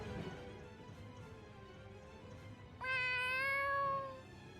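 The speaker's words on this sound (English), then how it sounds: "Is that your cat?" A cat gives a single loud, drawn-out meow close by, rising then falling, heard over the faint background of a playthrough of the video game Tales of Xillia 2.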